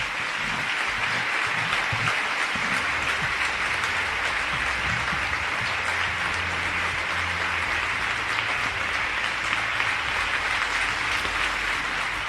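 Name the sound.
long ovation applause at Partido Popular event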